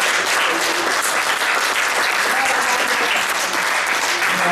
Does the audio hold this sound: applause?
yes